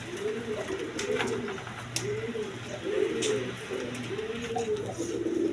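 High-flying Giribaz pigeons, a feather-footed pair, coo in repeated rolling phrases of about a second each, close by and steady under light background clatter.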